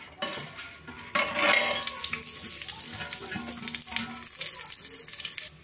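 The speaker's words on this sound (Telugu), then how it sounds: "ఆయిల్ వేడెక్కిందండి. ఇందాక మసాలా దినుసులు తీసుకున్నాం కదా, వేసుకుందాం." Whole spices hit hot oil and ghee in a pan and crackle into a loud, steady sizzle, with a few clinks of utensils against the pot and no talking.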